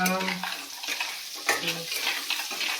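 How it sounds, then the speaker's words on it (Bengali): Crab claws frying in a kadai for a home-style Bengali crab curry, with a continuous sizzle broken by stirring and scraping and a few hard rattling knocks against the pan. "এই যে ক্যাকড়াগুলো দাঁড়াগুলো দিয়ে দিলাম"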